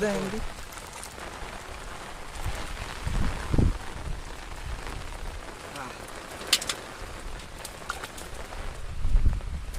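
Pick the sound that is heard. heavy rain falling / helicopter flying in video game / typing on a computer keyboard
heavy rain falling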